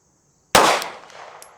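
A single sharp gunshot fired from an ADE Nuwa Pro–sighted gun at a top-left target, a loud close crack that rings out and decays over about a second, with no talk.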